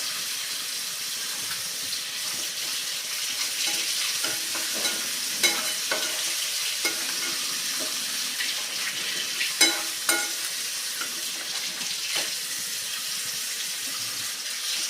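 Onions sauté in a pan with turmeric for a dry potato sabzi, giving a soft continuous sizzle with scattered spoon scrapes and clinks up close, no talking.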